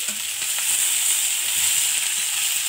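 Food sautés in mustard oil with garlic paste in a pan, giving a loud, steady, close hiss of sizzling that runs unbroken throughout.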